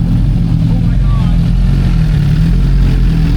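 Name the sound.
Suzuki GSX-R motorcycle engine revving with aftermarket exhaust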